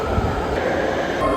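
A train rumbles steadily and fairly loud at a station where someone waits, a brief, continuous low roar without pauses.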